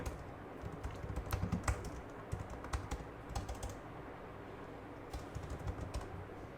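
Quiet keystrokes on a computer keyboard entering a Linux command, soft irregular clicks in short bursts over a low background hum.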